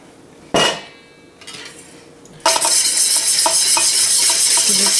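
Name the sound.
whisking cider vinegar sauce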